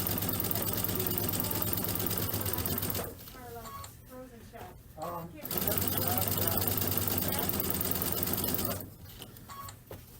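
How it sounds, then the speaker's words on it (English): Quilting sewing machine stitching fabric for a spring pillow, a fast, loud mechanical whir that runs steadily, breaks off briefly while someone talks, then resumes and stops again near the end. "So I'm just going to go ahead and start stitching."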